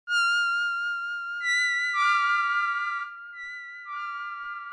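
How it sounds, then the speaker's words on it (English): Ableton Live 11 Vector Delay plugin processing a bright synth tone, sustained pitched notes stepping through a few pitches with echoing repeats trailing behind, steady and fairly loud with no voice. "basically vector delay is again another delay to add to the list"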